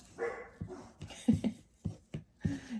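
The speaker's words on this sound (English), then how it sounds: "And for a puppy, she's got a pretty loud bark." A puppy on a rural dirt road lets out a quick string of about seven loud, sharp barks and yips close to the microphone, with short gaps between them.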